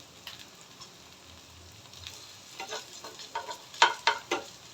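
Lentil-coated pointed gourd fritters frying in oil, giving a soft steady sizzle that builds into sharper crackling spatters and pops toward the end, close by with no talking.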